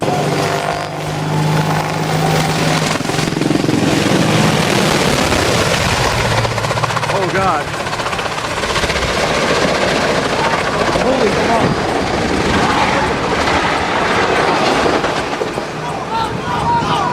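A military helicopter roars loudly and continuously nearby, its rotor and engine noise sustained throughout, with some voices faintly under it.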